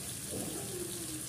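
Water is poured into a cooking spicy chicken leg curry to rinse in the leftover cashew paste, a brief soft continuous trickle and splash heard close up with no one talking.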